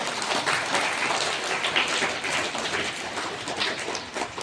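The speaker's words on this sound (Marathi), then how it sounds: "त्या शिक्षकांसाठी एकदा जोरदार टाळ्या सगळ्यांनी वाजवा" Audience at a school prize-giving ceremony in Pimpri Pendhar claps for the teachers, a dense, steady wash of applause from many hands lasting throughout, fairly loud and without talk.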